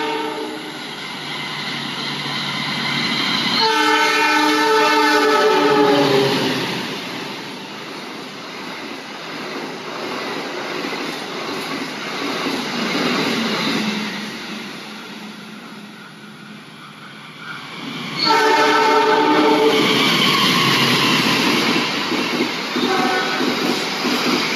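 A Lodaya Tambahan passenger train races past at about 120 km/h, its horn sounding in long tonal blasts at the start and again later, with a roaring rush of cars and wheel clatter swelling and fading between, loud and close.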